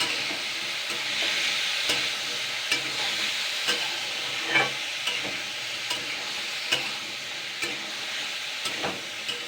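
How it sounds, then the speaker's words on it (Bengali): Potatoes fry in hot oil in a pan for a plain white potato curry, a steady bright sizzle running throughout while a spatula stirs them with soft scrapes and clicks at irregular intervals. "আলুটাকে আমি দুই মিনিট মতনই ভাজবো তার বেশি না বেশি ভাজা যাবে না"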